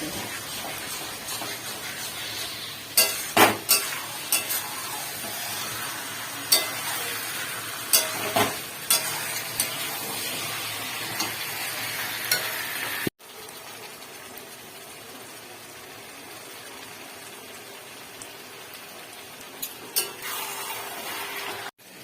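Chicken curry fries in a pan while a spoon stirs it, producing a continuous sizzle broken by sharp scraping knocks. After a cut partway through, the sizzle continues more quietly.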